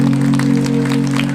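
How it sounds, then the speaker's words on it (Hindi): An audience at a commemorative speech event bursts into a brief round of clapping, heard over a steady, droning tonal hum. "आप लोगों से दुआ दीजिए तालियों से."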